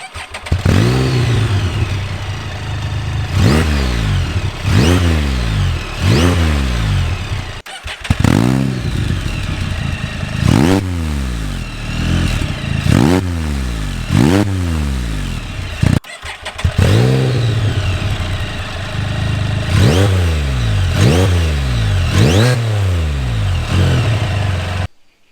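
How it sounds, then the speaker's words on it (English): A Can-Am engine with its stock exhaust and catalytic converter starts and is repeatedly revved, loud and close, each blip rising and falling in sharp swells with short pauses between them and no talk. "first let's start the engine"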